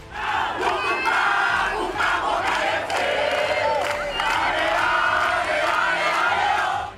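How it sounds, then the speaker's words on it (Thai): Football fans in a Thai stadium chant and sing together in a loud, sustained crowd roar, rising and falling in waves of rhythmic group voices with cheering throughout. "แฟนบอลต่างร้องเพลงส่งกำลังใจให้นักเตะเดินหน้าสู้ต่อไป"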